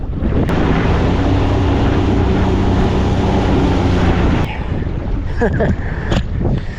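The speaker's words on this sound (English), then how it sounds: "it was so windy all of a sudden" Strong wind roars and buffets the microphone continuously, loud and close, easing slightly near the end as faint clatter and movement come through.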